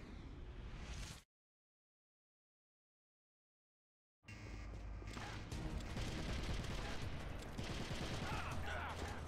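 Rapid gunfire bursts in the video game Metal Gear Solid: The Twin Snakes, with dense rattling shots and explosions before and after a long silent gap, loud and busy throughout.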